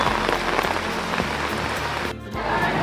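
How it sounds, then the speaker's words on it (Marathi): Dense, steady rain pours down and drums on surfaces all around at the Mahalakshmi temple in Kolhapur, with a brief dip in the roar near the end. "आता खूप सारा पाऊस"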